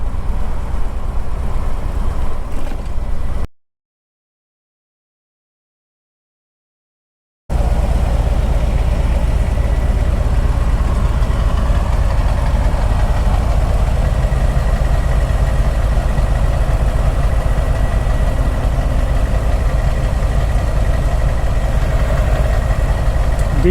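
A diesel engine idles with a loud, steady low rumble and rattle that runs almost without a break apart from one short gap.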